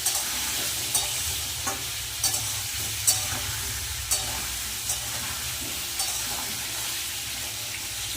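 Potatoes with salt and turmeric frying in oil, a continuous close sizzle broken by regular scraping stirs of a spatula every second or so, with no one speaking.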